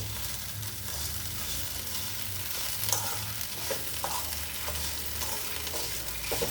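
Urad dal sizzling in hot oil in a pan while being stirred, a steady crackling fry with occasional scraping clicks of the spoon, close and continuous without talk.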